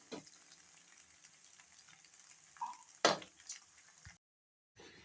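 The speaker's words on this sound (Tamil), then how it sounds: "ஒரு 5 நிமிஷம் கிளறினா போதும், எல்லாம் மிக்ஸ் ஆயிடும்." Pasta gets stirred in a pan on the stove. A soft background sizzle is broken by a few scattered scrapes and knocks of a utensil against the pan, then a short cut to silence.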